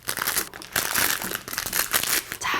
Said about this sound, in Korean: 비닐은 이제 안쪽으로 꾹 집어넣습니다.